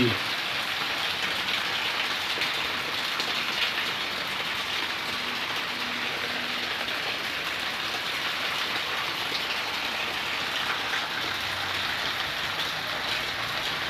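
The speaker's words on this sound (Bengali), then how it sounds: "এত বৃষ্টি" Heavy monsoon rain pours down in a dense, unbroken hiss, drumming steadily on surfaces close by.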